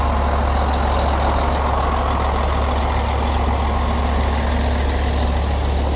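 A heavy truck idles in a Canadian blizzard, its low diesel rumble a steady, loud drone with wind noise and no talk over it.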